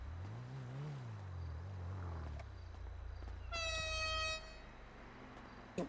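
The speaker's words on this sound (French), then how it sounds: "Tiens, le klaxon. Ouais, cette sonorité. C'est strident" A car horn sounds in a taxi game scene, a bright, strident blast with a stack of harmonics lasting just under a second, heard over a steady low engine drone and road noise, with no speech.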